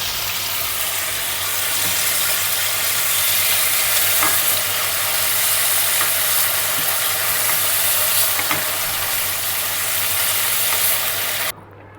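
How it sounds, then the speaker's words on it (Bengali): Prawns sizzle and crackle steadily in hot oil in a pan while being stirred and lifted out, loud and continuous with occasional scraping, then the sizzle cuts off abruptly at the end. "এবার ভাজা হয়ে গেছে, চিংড়ি মাছগুলো আমি তুলে নিচ্ছি।"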